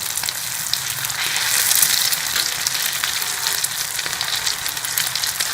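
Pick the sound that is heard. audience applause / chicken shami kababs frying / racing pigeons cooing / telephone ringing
chicken shami kababs frying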